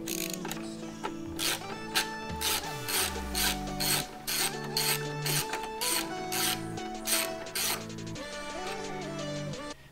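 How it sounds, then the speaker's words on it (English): A ratchet wrench backs out a 3/8 bolt at the center of a Harley-Davidson Touring tank console, giving bursts of rapid clicking pawl strokes with pauses between them, close and clear. "you're going to be taking out this bolt right down here in the center."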